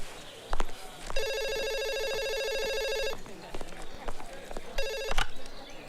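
A telephone rings in two bursts of bright electronic trilling, the first long and the second shorter, with people talking and moving around nearby.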